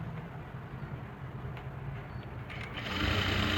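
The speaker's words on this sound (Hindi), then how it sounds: "अब इसके ऊपर से हम सिलाई लगाएंगे।" A sewing machine runs steadily, stitching piping around the neck of a lined suit. Its whir is continuous and close, grows slightly louder toward the end and carries no speech.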